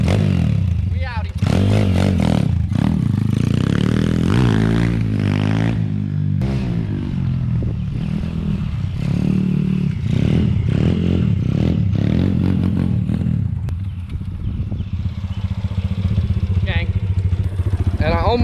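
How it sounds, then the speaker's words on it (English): A pit bike motorcycle with a pipe bomb exhaust revs and rides close by, its loud rough engine rising and falling with clattering, while a voice talks over it. "this bike comes with a pipe bomb exhaust. Y'all hear that?"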